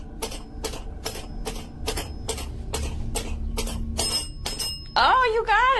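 A small bell dings in a steady run of about a dozen sharp, evenly spaced strikes in a quiet room, and a voice comes in near the end.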